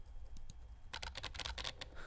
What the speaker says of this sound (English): just typing on the nonsense on the keyboard